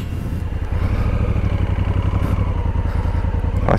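A motorcycle engine idles close by on a small road on Monte Argentario in Tuscany, loud with a fast, even chugging pulse that runs throughout before a brief sharp sound at the end.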